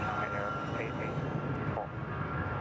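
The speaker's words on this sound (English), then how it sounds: "We got 777-200 ER. How good she sound?" Shanghai Air Boeing 777-200ER jet at Bangkok Suvarnabhumi Airport, a steady airliner engine roar with a low rumble and tonal whine, heard from a distance under talk and radio chatter.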